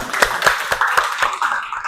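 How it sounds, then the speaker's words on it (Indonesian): A classroom of students claps in a steady, even rhythm, with about eight sharp, close claps in quick succession and a faint murmur underneath. "Oke, tepuk tangan untuk temannya."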